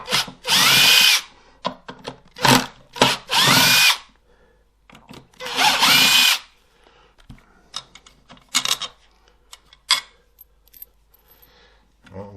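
A rattle gun backs out old screws on a Kirby G3 vacuum cleaner in loud, close, whirring bursts of a few seconds each, separated by quieter clinks and rattles of loosened metal parts.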